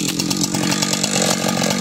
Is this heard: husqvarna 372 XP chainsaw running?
yes